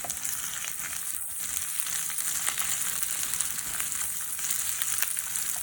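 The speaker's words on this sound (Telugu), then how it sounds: "అల్లం వెల్లుల్లి పేస్ట్ ఫ్రై అయిన తర్వాత పచ్చిమిర్చి వేసుకొని ఫ్రై చేసుకోవాలి." Green chillies frying with ginger garlic paste in a pan for egg pulao, a steady bright sizzle with crackles and light stirring throughout, no talking.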